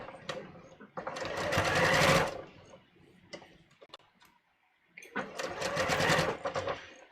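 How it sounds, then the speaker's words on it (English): A sewing machine stitching a sleeve into an armhole at a half-inch seam, running in two loud sustained bursts separated by a pause filled with softer handling taps and clicks. "let's sew this sleeve"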